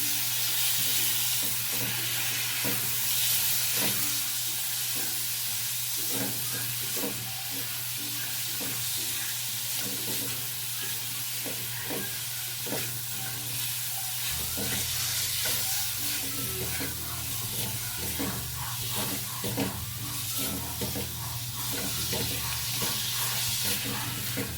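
Tomatoes are sautéed in a pan for pochero, giving a continuous sizzle with repeated scraping stirs close by. A faint voice and a low hum run underneath.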